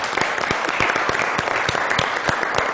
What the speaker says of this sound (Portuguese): Vamos aplaudir a Denise.